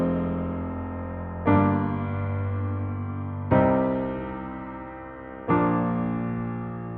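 Sustained chords on Logic Pro's synth keyboard change every two seconds or so, each new chord entering with a soft attack and ringing on, steady and close with no voices.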